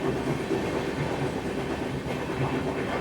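A Puri-to-Chennai train rolls steadily along the tracks, heard from a general coach, with a continuous rumble and rhythmic clatter of wheels, loud and close, with no voices.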